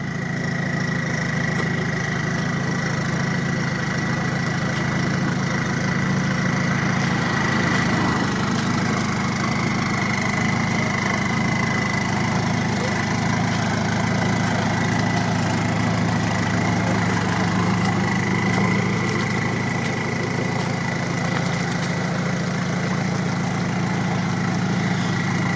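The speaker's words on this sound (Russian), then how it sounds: "Видите, хороший внедорожник, ему не нужен пилот." A UAZ off-road vehicle's engine runs steadily as the truck crawls through a swamp with no driver aboard, a continuous mid-low drone with a constant tone, loud and unbroken, no voices present.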